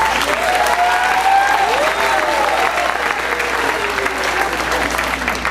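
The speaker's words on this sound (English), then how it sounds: "Let's give him a round of applause." An audience at a middle school winter band concert gives steady applause that holds at an even level throughout, close and dense.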